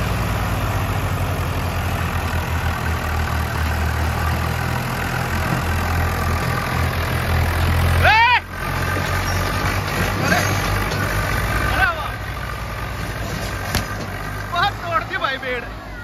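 Swaraj 855 FE and Farmtrac 60 tractors strain against each other in a tug of war. Their heavy diesel engines rumble loud and steady, with a crowd shouting over them and a brief engine surge midway.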